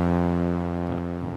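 A repeating synth bass line plays under a sustained main melody in a melodic electronic track, steady and loud throughout with no voices.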